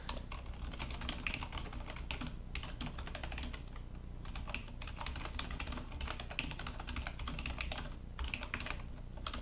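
Steady, rapid clatter of keys on a computer keyboard as a message goes to an online backgammon opponent, close and continuous with slight bursts and pauses, no talking.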